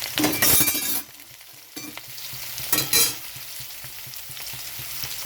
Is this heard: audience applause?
no